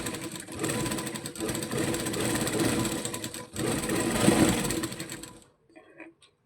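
A sewing machine runs in fast, rapid stitching bursts along a baby frock's neck strip, loud and close, briefly pausing midway and then stopping, followed by faint handling noise.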